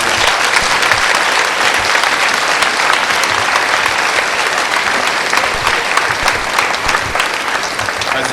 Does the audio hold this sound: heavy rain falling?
no